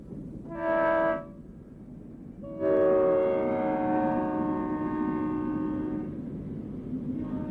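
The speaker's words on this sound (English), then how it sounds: "At Pruitt, approximately 75 miles from the Arizona state line, the westbound Super Chief races by." A Santa Fe westbound Super Chief passenger train sounds its air horn in two blasts, one short and one long, followed by a steady rumble of the train racing past.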